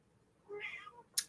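A house cat gives one short, fairly soft indoor meow, followed at once by a brief sharp noise.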